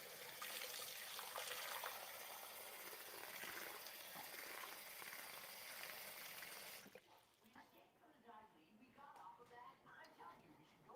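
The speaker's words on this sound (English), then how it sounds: "hear me literally rinsing out my water container in my sink" A water container being rinsed out in a kitchen sink, with loud running tap water gushing for several seconds before cutting off, followed by quieter splashes and drips, with a soft voice speaking over it.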